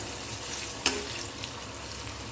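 Dried tamarind chilies (puli milagai vathal) frying in oil over a medium flame, a soft steady sizzle with a brief sharp clink of stirring partway through.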